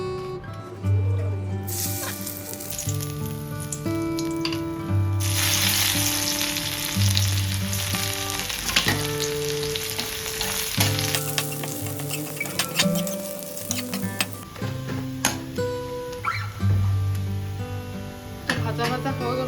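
Garlic fries in hot oil in a home kitchen with a bright, continuous sizzle that swells and fades, broken by utensil clatter while someone talks over it.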